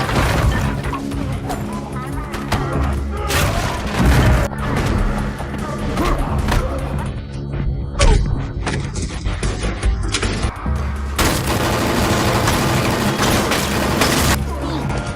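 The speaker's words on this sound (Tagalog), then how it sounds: "biglang sumabog ang mga pasabog sa ibaba" Loud, dense action-film soundtrack with repeated crashing explosions and booms layered over music and rumbling effects, continuous and intense throughout.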